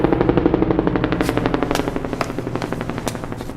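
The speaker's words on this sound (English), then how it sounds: "sound of a chopper is never good, especially if it's a black helicopter" A helicopter in Metal Gear Solid V gives a rapid, steady rotor chop that thumps fast and even throughout, fairly loud with no talk over it.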